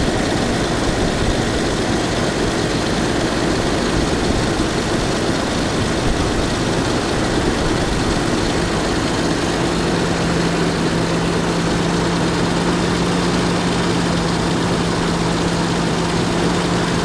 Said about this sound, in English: You can hear that it's idling pretty good.